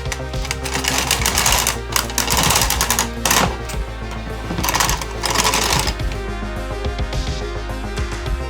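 A 1990s knitting machine runs close by with a dense mechanical clatter, its carriage rattling in repeated bursts with brief pauses between passes.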